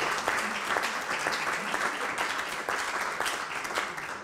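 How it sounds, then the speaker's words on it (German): Steady applause from an audience at a German commemorative medical gathering on gastroenterologists under the Nazi dictatorship, honoring a moderator; dense, even clapping fills the room throughout without pause. "Und dafür nochmal einen gesonderten Applaus an Friederike Klein."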